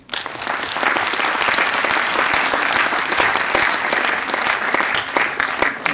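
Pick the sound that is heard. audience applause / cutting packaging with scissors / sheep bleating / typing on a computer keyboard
audience applause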